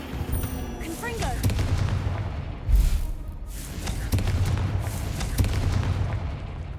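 A Confringo fire spell is cast in Hogwarts Legacy, with a deep booming blast near the middle, lighter thuds and whooshes before and after, and a voice calling out over the game sounds.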